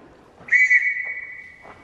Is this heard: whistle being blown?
yes